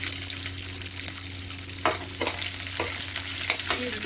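Onions frying in oil in a pan already tempered with mustard seeds and peanuts, with a steady close sizzle broken by several scraping stirs.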